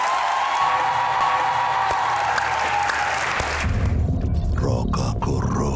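A studio audience claps loudly for a guest on a comedy show, dense applause that thins after a few seconds into scattered claps over low rumble.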